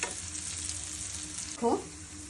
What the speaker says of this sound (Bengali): দেখো আমার মাছের তেলের বড়াটা সুন্দরভাবে ভাজা হয়ে গেছে